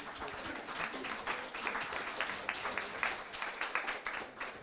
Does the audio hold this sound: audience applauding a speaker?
yes